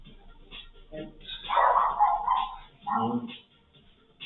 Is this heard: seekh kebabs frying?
no